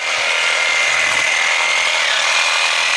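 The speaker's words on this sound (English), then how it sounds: "She's replaced her loppers with an electric sawzall with a pruning blade" An electric sawzall fitted with a pruning blade cuts through wood, a continuous close, bright buzzing rasp that runs unbroken and loud with no voices.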